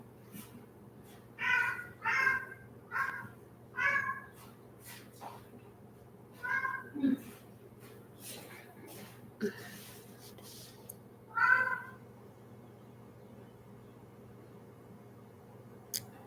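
A cat meows indoors in a series of short, faint-to-moderate mews spread across the stretch, some in quick pairs, over a quiet room hum with occasional soft shuffling noises.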